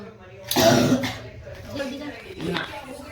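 A single close cough bursts out, followed by quiet speech and throat noises.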